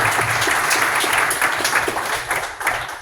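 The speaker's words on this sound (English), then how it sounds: "how about we give Clement a round of applause?" A tech demo night audience gives a short burst of lively applause, dense overlapping claps that fade slightly toward the end over about three seconds.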